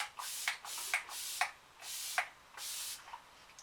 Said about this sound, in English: I'm going to go in with some more setting spray and just kind of let this melt everything in.